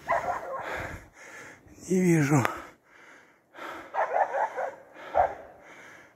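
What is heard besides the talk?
laika hunting dog barking in forest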